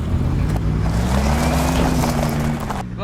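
A car drives in a Roblox video game with a continuous synthetic engine drone. The engine pitch climbs slightly and holds, loud and close, with no talking, then cuts off sharply near the end.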